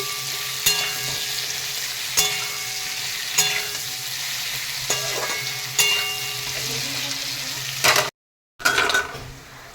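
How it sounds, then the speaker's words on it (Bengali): Chopped teasel gourd frying in a pan gives a steady close sizzle, broken every second or so by the scrape and clatter of stirring, with a brief cut to silence near the end. "আরও একটু ভেজে নেব।"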